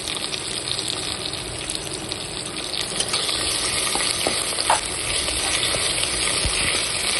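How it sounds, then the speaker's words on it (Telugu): Ginger garlic paste frying and being stirred in hot oil for a dhaba-style egg biryani, giving a steady, close sizzle with a few soft scraping clicks of the spoon, no talking. "2 టేబుల్ స్పూన్ మనము అల్లం వెల్లుల్లి పేస్ట్ అనేది వేసుకోవాలి. దాంట్లో ఉన్న పచ్చివాసన అంతా పోయేంత వరకు మనము బాగా కలుపుకోవాలి."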